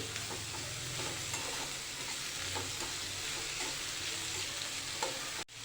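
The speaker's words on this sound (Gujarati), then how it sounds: "કોબીને બરાબર મિક્સ કરી લઈશું આવી રીતે હલાવી લેવાનું છે બહુ વધારે કૂક નથી કરવાનું" Shredded cabbage sizzles and hisses in a hot pan as a spoon stirs it, with soft repeated scraping strokes over a steady frying crackle, close and moderately quiet, ending in a brief clatter.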